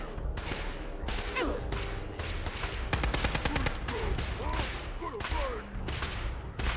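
Sustained machine gun bursts in Fallout 4, loud rattling volleys with whip-like cracks, firing almost continuously with short gaps while a voice speaks over the action.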